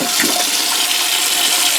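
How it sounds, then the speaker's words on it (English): Water poured back into a canning pot, a loud continuous rushing gush that stays even from start to finish with no talking. "we're going to dump the water back in here"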